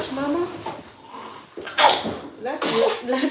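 One person sneezes a couple of times in a home setting, each sneeze a sharp close burst after softer breathy sounds, with talking around them.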